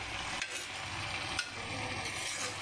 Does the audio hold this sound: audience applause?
no